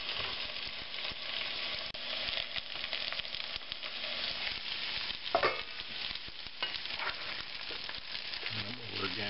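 Fried potatoes with bacon and onions sizzling in a pan, giving a continuous, even crackle and hiss at moderate volume, with a few faint scrapes and clinks.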